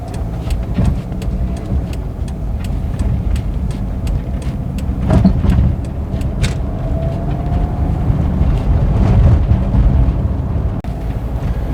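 Steady, loud road roar and engine drone fill the cabin of a 1995 Toyota RAV4 with little sound deadening, with occasional faint clicks and a brief whine, continuous and close.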